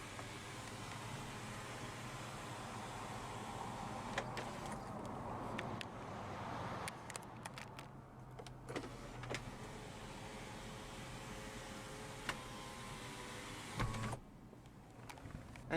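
A power sunroof in a 2006 Toyota 4Runner Limited runs with a steady electric motor hum inside the cabin, broken by a few sharp clicks and a soft thump near the end.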